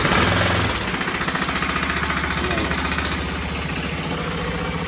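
A BMW F650 motorcycle engine, long unused and kept outdoors, fires up and settles into a loud, close, rapid thumping idle with a steady chugging rhythm.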